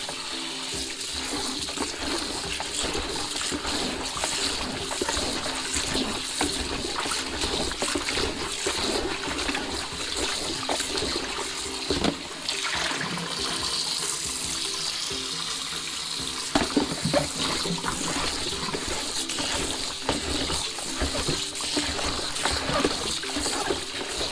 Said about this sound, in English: Now we'll give it another rinse.